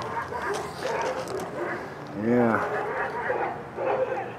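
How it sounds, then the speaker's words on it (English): Dogs bark a short distance away at a street-race gathering, with one clear, loud burst in the middle and fainter yips after it, all under steady crowd and engine background and a person's brief talk. "I don't know what those dogs are barking at over there"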